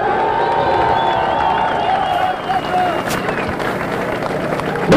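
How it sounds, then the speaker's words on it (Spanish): At a teachers' protest march, a crowd applauds and cheers for the students' parents. Clapping mixes with shouts and whistle-like cries, loud and continuous outdoors. "vamos a darle un aplauso a nuestros padres de familia"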